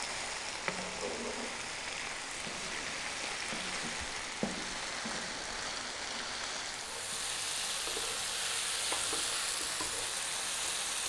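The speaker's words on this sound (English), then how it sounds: "Chuck it around in the pan. Mushrooms will cook down a little bit" Mushrooms frying in a pan with a steady, dense sizzle and a few soft stirring knocks, hiss growing slightly louder partway through, no voices.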